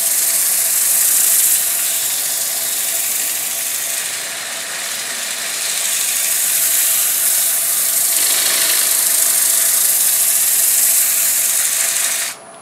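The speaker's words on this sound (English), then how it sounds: "And I'm keeping the disc on the lower half in contact." A power sanding disc held against a turning wooden bowl on a lathe at fairly slow speed gives a loud, steady abrasive whir and hiss that barely changes across the stretch, with no talk.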